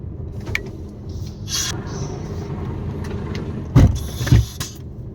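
Truck pulling away through an opened barrier at Polish border control, steady engine rumble from inside the cab with two heavy thumps near the end, no talk.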